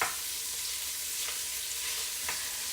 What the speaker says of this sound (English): I have my stove on 7, I think, and it's just searing this just a little.